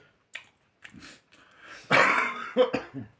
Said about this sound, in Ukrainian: і не кашляй